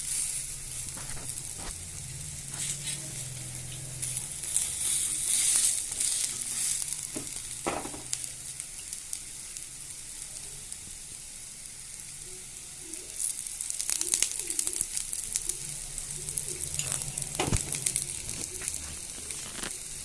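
Giliri flower fritters (bara) frying in oil in a pan make a steady hiss and sizzle with scattered crackles and occasional stirring clinks, nearby and continuous throughout.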